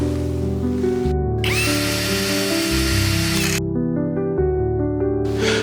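A power drill or electric screwdriver driving a screw into a ZIP blind motor box, a loud close whirring motor that runs steadily, briefly cuts out and revs again, with no talking.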